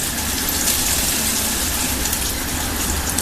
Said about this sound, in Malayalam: ഇതിനകത്ത് ഈ വെള്ളം തിളച്ചോണ്ടിരിക്കുന്ന വെള്ളത്തിലേക്ക്